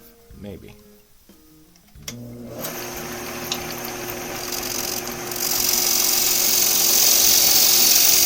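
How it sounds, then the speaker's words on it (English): A wood lathe spins up to a steady whirring hum while a tool makes a planing cut along the grain of a turning, the drone growing louder and rougher toward the end, with someone talking at the start. "So I'm calling this a planing cut because the grain runs this way, and I'm really just taking off one layer of grain"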